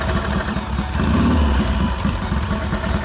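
Triumph show motorcycle engine running steadily nearby, a loud continuous rumble with a rapid even firing pulse and slight revving swell in the middle.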